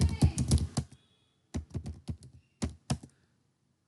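A password is typed on a computer keyboard in three quick bursts of close, clicky keystrokes separated by brief silent pauses.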